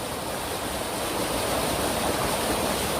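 Natural mountain waterfall at Jirisan, a steady broadband rush of falling water that stays loud and constant throughout with no voices.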